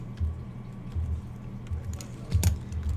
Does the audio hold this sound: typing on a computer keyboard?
yes